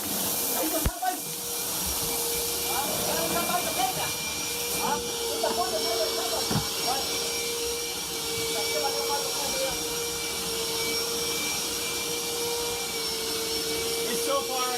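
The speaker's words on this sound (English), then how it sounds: "Llevo la vacuum, Seven." A vacuum cleaner drones steadily and loudly from start to finish, a constant whining roar with a sustained high tone, while faint voices murmur underneath.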